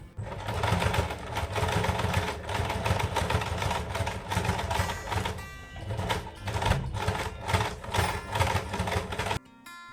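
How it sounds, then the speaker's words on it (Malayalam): A sewing machine stitches the fabric corners of a travel bag, running in a fast, steady mechanical whir with brief pauses, loud and close, then stopping abruptly at the end. "അരികിലൂടെ സ്റ്റിച്ച് ചെയ്ത് എടുക്കുക അങ്ങനെ നമുക്ക് നാല് ഭാഗങ്ങളിലും സ്റ്റിച്ച് ചെയ്ത് എടുക്കണം"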